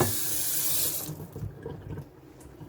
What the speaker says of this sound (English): let's wet our plate